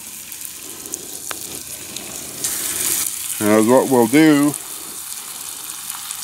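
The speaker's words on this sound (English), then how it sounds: "Line her up, get frying some chicken." Chicken fries in a Dutch oven, a steady sizzle running throughout, while someone talks briefly partway through.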